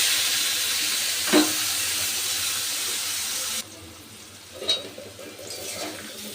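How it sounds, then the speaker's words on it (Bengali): Chopped onion goes into hot oil with dried red chilli, whole cumin, bay leaf and cardamom, making a loud steady sizzle that suddenly drops to a quieter hiss, with a couple of brief stirring scrapes. "আর দিয়ে দিচ্ছি আমি এবার পেঁয়াজ কুচি।"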